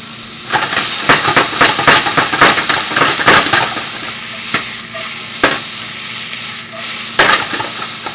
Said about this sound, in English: And add the onions, just a little bit, 1/4 cup.